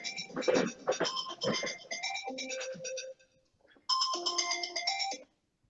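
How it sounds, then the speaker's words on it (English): A phone ringtone plays loudly and alone in a repeating melodic pattern, two bursts separated by a short pause, close to the microphone. "Hold on while I answer this phone."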